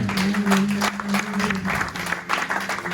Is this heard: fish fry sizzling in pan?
no